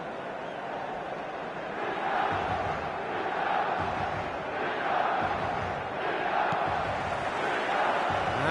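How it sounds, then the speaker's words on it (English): A packed football stadium crowd on match day roars continuously in a broad, swelling wash of cheering and chanting, with no speech above it. "The stadium is full of noise and energy."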